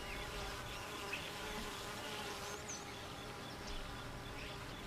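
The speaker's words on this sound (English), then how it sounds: "Honeybees live in colonies," A constant swarm of honeybees hums nearby, a thick unbroken buzz with occasional louder passes.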